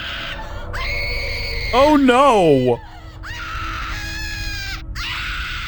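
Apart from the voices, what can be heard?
continuous screaming from behind a door in RuneScape 3 video game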